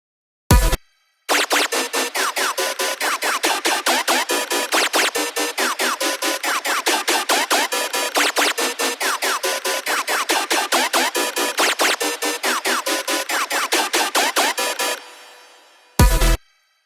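Electronic song section of chopped-up riser loops, a dense, bright, rapidly stuttering wall of sliced synth repeating in a fast steady pulse, loud and alone, bracketed by short bursts at the start and end before it cuts off.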